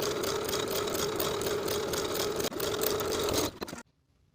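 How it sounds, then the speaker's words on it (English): Sewing machine running steadily while edge stitching close to the upper inner fold of a hem on a cropped boxy top, a continuous mechanical whir with a brief dip midway, stopping abruptly near the end. "Then I'm going to edge stitch close to that upper inner fold all the way around."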